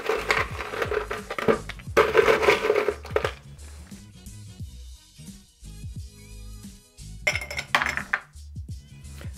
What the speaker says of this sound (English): We're gonna put this into a highball glass, also known as a Collins glass. And we're gonna put this over some ice.